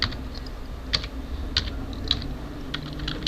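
Someone types on a computer keyboard, with a handful of sharp, sparse keystrokes clicking at an uneven pace over a quiet room background, and no one speaking.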